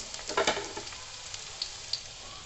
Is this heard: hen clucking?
no